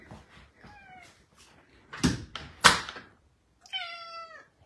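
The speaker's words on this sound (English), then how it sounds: "Beautiful kitty cat." Indoors in a house, a cat lets out several short meows, quiet and close, separated by pauses, with a couple of sharp thumps like a door or cupboard between them.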